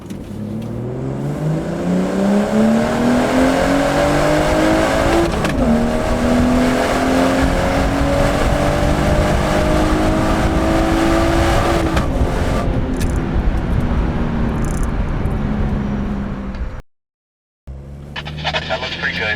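A BMW 340i xDrive sedan with the B58 turbocharged inline-six accelerates hard, its engine note climbing steadily through gears with a shift around midway, loud and close from inside the cabin, then easing off before a brief cut.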